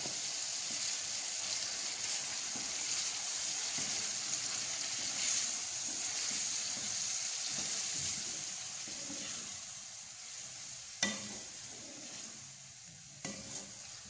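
Ground onion sizzles in oil in a pan, a soft, steady frying hiss with a few stirring clicks toward the end.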